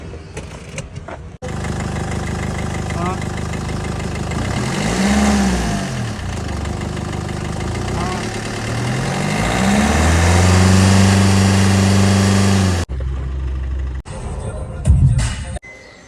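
A car engine starts, then revs up and down several times before settling into a steady running drone, close and loud, ending with a few clunks.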